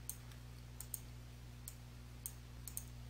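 Computer mouse clicks while working in OneNote 2016, a handful of faint, sharp, isolated clicks spaced irregularly over a quiet background hum.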